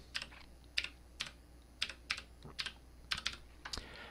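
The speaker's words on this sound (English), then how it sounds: "we want to type in disk part" Typing a command on a computer keyboard in a Windows PC, with a dozen or so crisp, separate key clicks in short bursts and brief pauses, close and clear with no talk.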